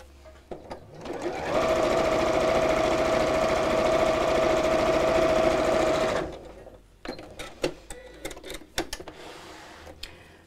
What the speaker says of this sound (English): we'll sew those together to make a tube